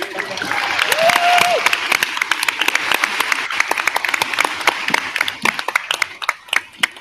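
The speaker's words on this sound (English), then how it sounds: "I think we can do more applause for Lisa." Audience at a Google for Education summit in Oregon applauding, dense clapping from a large crowd that swells early then thins into scattered individual claps toward the end, with a brief whistle near the start.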